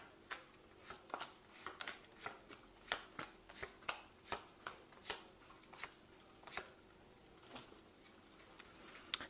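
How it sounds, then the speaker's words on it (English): Vanessa Tarot cards are handled and shuffled, giving faint, close, evenly spaced soft snaps and taps against a quiet background, with no voice. "So I'm going to just draw some cards from the Vanessa Tarot"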